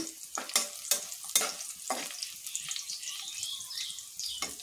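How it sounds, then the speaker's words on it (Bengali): Onions fry in oil with garam masala, bay leaf and two dried chillies, a close bright sizzle punctuated by several sharp scraping stirs of a spatula early on, then settling into steady crackling. "এখানে পেঁয়াজ গরম মশলা তেজপাতা আর দুইটা শুকনো মরিচ দিয়েছি"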